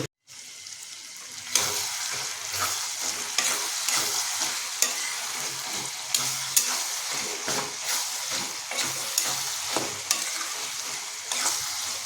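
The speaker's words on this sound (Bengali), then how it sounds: "অনেকক্ষণ ধরে আমরা খাসি মাংসের চর্বির উপরে মটরের পর কষিয়ে নিয়েছি" Peas frying in mutton fat for ghugni, a continuous close sizzle with repeated scraping strokes of a spatula against the pan at an uneven rhythm, no voices.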